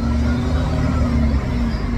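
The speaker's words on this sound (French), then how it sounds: "Vous entendez le truc de bus" A bus rumbles past nearby with a steady, loud low engine drone and broadband road noise that hold for the whole moment, with no talking.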